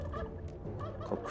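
Turkey gobbling sound effect in the dungeon-management game Dungeons 3, a short burst set against a steady bed of game music and ambience.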